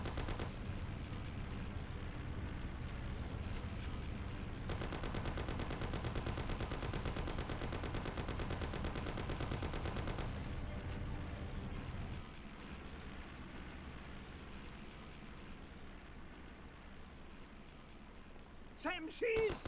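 Gunfire rattles through a shootout in the Mafia video game, with steady automatic bursts under engine and crash noise, while voices shout nearby.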